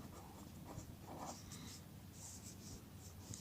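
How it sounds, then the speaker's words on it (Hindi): A pen writes out a maths solution to a polynomial factorisation problem, producing faint, scratchy strokes in short bursts against a quiet room hiss. "अब हम लिखेंगे"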